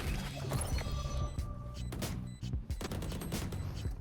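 Gunfire in the tactical shooter Valorant, a series of sharp shots and quick bursts with short pauses between them, loud and close with game effects mixed in and no speech.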